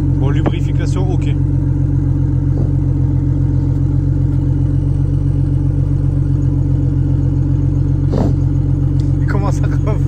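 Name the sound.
BMW E36 turbo swap engine running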